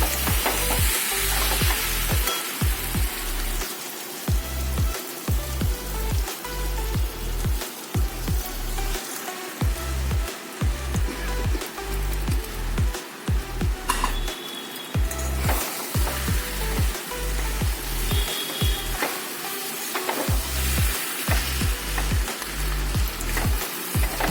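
Masoor dal stir-fried in a pan for prawn khichdi, with continuous close sizzling broken by a rhythmic run of spatula scrapes and stirs against the pan.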